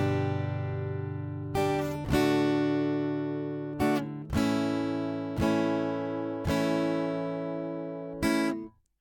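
Rhythm guitar strumming chords with an added offbeat stroke at the end of each chord: a steady series of crisp strums ringing between sharp percussive attacks, moderately quiet and heard alone.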